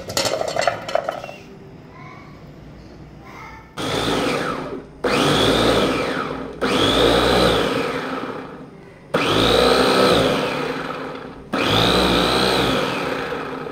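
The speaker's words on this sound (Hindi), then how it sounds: "अब जो है मैं ये चॉपर में डाल के ये मसाला ये भी जो है चॉपर में डालता हूँ" An electric chopper grinding masala runs in five loud whirring bursts, each a few seconds long, separated by brief pauses, after some light clatter of utensils at the start.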